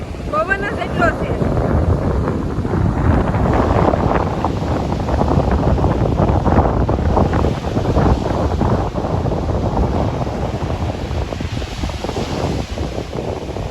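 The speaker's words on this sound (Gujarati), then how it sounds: "દરિયાનો છે ને હવા જેટલો આવે છે ને કે સંભળાય નહીં એવું છે. જો પવન જ એટલો છે." Strong sea wind buffeting the microphone on the shore at Alang ship breaking yard near Bhavnagar, a loud continuous roar with gusts, with surf beneath and a voice talking intermittently.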